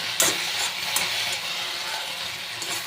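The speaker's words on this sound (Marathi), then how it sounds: "चवीनुसार मीठ टाकायचं मस्तपैकी परतून घ्यायचं" Okra being stir-fried with salt in a pan for a quick bhindi sabzi, a steady close sizzle broken by a few scraping stirs, with no talking.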